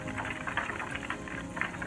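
Butter simmers in a pot while being cooked down into ghee, giving a steady, close, dense crackling and bubbling with no pauses and no voices.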